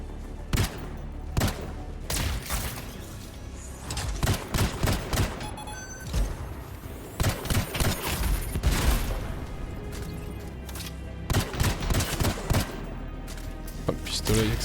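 Rapid weapon fire from the video game Anthem, dense bursts of shots and explosive impacts spread across the whole stretch, loud and busy with game effects, while a player talks over it at times.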